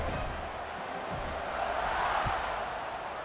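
A football stadium crowd cheers in a broad, distant roar that swells slightly and holds steady under faint commentary.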